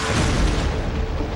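Explosion at a small office in Korea, heard as a loud, close boom with a broad roaring burst of noise that stays dense for a moment before easing slightly, no voices present.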